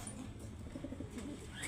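Pigeons coo softly in a breeder loft, low murmuring calls repeating unevenly over a steady background hum, with a faint chirp near the end.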